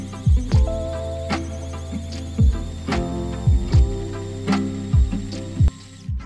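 An electric Japanese kakigori shaved ice machine runs with a steady low motor hum and repeated thumping pulses, roughly every half second to second, close and alone with no talking.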